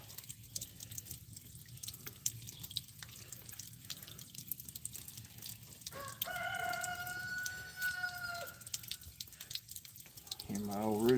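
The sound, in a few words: rooster crowing in the background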